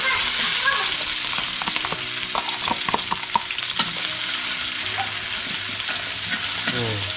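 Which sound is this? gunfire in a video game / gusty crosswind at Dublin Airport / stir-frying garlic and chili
stir-frying garlic and chili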